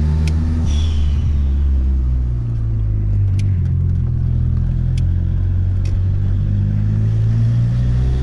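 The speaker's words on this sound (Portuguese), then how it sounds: "eu adorei o som dessa válvula de prioridade" Turbocharged Opel Kadett GL with a forged engine and blow-off valve, a loud, deep idle rumble with the engine note rising and settling, and short sharp hissing bursts standing out over it.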